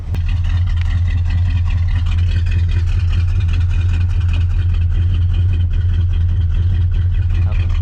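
A Plymouth Roadrunner engine, back running after 25 years off the road and running rich, idles with a steady, loud low rumble that holds from start to finish.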